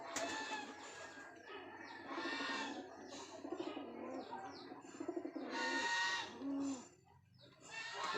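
A small flock of pigeons coos close by as they gather when called, overlapping throaty calls rising and falling in bursts with brief pauses between them.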